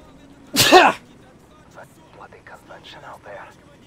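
A character in Call of Duty 4: Modern Warfare lets out a single loud, sharp sneeze close up, followed by quieter murmured speech in the background.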